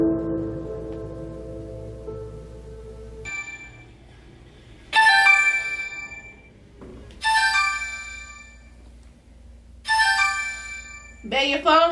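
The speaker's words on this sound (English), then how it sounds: "Babe, your phone ringing." A mobile phone ringtone chimes in bright repeated bursts, starting after a stretch of low indoor sound and recurring several times at a steady pace, moderately loud and close.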